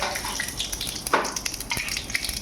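Green and dried chillies and poppy seeds fry in oil in a wok with nigella seeds, giving a busy, steady crackle and sizzle with a few brief pops.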